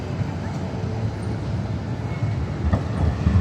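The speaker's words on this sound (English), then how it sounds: "There's another tram." Tram passing along a busy Melbourne CBD street where tram routes cross, a low steady rumble blended with city traffic noise, moderately close and continuous with no distinct peaks.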